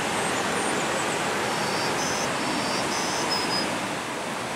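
Constant roaring rush of falling water, broad and steady without pause, with faint high bird chirps drifting over it.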